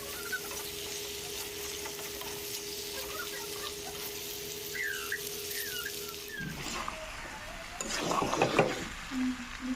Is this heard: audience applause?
no